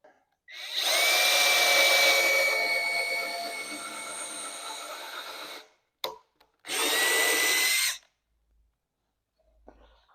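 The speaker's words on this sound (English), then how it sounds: "I'm just going to put it on like this so I can drill some pilot holes here." A power drill bores pilot holes into wood with one long whirring run of about five seconds, then a short burst after a pause, loud and close with no talking.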